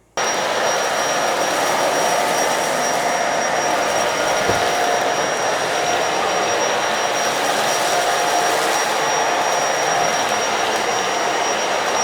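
A Bissell Pet Hair Eraser Turbo Lift-Off vacuum switches on and runs with a steady, loud, high-pitched whine and airy roar, unchanging and close for the whole stretch.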